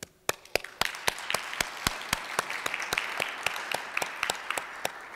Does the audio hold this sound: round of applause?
yes